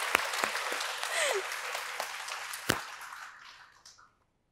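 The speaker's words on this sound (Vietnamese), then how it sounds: "Mọi người vỗ tay cho em." Audience applause for a young man about to sing on a dating show, a steady crowd clapping with a few sharp louder claps and a brief whoop, gradually fading out to silence.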